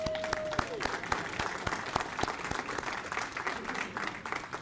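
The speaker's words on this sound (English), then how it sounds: "give Jeff a round of applause" An audience at a volunteer awards ceremony applauds a chapter president, with sharp individual claps standing out over a softer crowd of hands, moderately distant, alongside a brief amplified tone early on.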